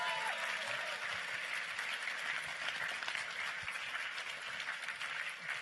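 Audience applause following a sock-puppet game development talk, a steady broadband wash of many hands clapping that holds for several seconds, with faint voices mixed in.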